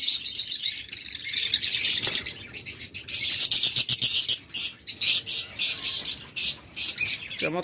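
Many pairs of lovebirds in breeding pots chirp and squawk in a busy aviary, with dense shrill calls in irregular bursts, close and loud, no voices.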